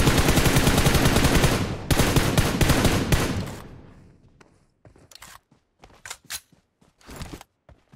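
Automatic gunfire in PUBG Mobile rattles loudly in rapid sustained bursts, breaks off, then fades into scattered single shots and short volleys that sound more distant.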